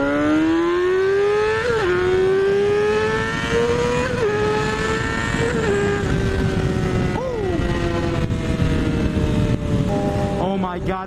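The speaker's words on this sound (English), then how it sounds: "God, this exhaust is so loud." A loud motorcycle exhaust roars continuously while riding, its pitch climbing through each gear and dropping sharply at every shift, close and dominant throughout.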